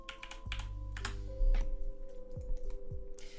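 Someone types on a computer keyboard in quick irregular bursts of clicks, close and clear, over a steady low hum with a few descending tonal blips.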